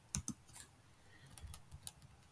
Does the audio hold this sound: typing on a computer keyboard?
yes